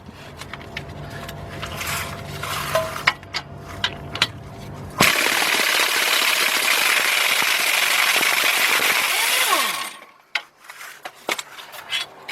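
An impact wrench removes the last bolt on the front hub of a 2003 Chevy Trailblazer with one loud, sustained hammering run of about five seconds. Lighter clanks and handling noises come before and after it.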